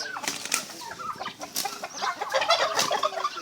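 Native chickens, Rhode Island chickens and a turkey cluck and squawk close by in a busy, irregular chatter, with sharp calls breaking through, sounding like a yard of fowl.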